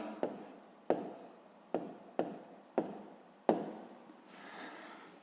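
A pen writes down a math answer on paper, making six sharp taps and scratchy strokes at uneven intervals. A softer scribble follows at the end. The sounds are close and quiet, with no talking.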